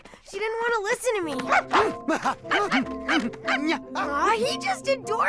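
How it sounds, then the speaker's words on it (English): A dog barks and yips repeatedly in quick, excited bursts, mixed with high whining sounds, close by and fairly loud. "He just adores his puppy, Rex."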